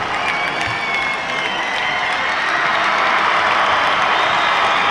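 A large crowd at a football game cheers and applauds continuously through the final seconds, a dense roar of clapping and shouting that stays loud and steady throughout.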